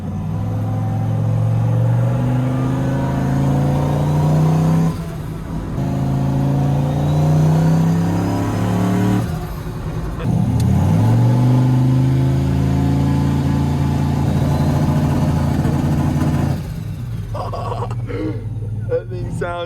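A turbocharged LS-powered street truck drives through downtown, its engine rumbling loudly and revving up in repeated pulls with brief drops between, rising pitch on each run while people talk inside the cab.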